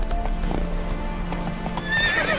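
Horse hooves clip-clopping at a gallop in The Witcher 3, with a whinny rising near the end over a steady game soundscape.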